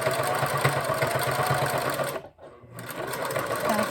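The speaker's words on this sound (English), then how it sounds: "Now, we're just going to sew in the middle." Sewing machine stitching a crochet rug, a loud close rapid mechanical chatter that stops briefly for a moment and then resumes.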